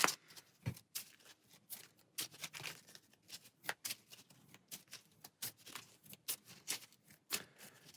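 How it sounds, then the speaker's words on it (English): Playing cards from an Arkham Horror card game encounter deck being shuffled by hand, close and quiet, in repeated short riffling and tapping bursts with brief gaps. "these, along with the fear deck, are being shuffled into our encounter deck"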